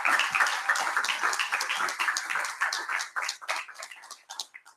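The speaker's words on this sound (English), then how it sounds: "Give a round of applause for the praise team." Audience applause for a church praise team at a live lecture, a dense continuous wash of many hands clapping that thins out toward the end.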